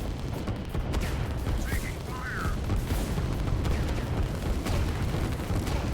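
Artillery barrages in the strategy video game Line War, a continuous rumble of booming shell fire and distant blasts layered thick throughout, with a voice talking over it.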